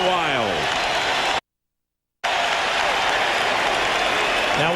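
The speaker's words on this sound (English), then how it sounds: "Another timeout called by the Raptors, and this crowd going wild." A basketball arena crowd during a 2001 playoff game between the Raptors and 76ers roars loudly during a timeout, a sustained wall of cheering and applause broken by a brief cut to silence.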